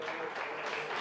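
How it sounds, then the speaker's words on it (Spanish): A church congregation claps for the Lord, a short burst of dense, even applause filling the room. "Denle un aplauso al Señor, aleluya."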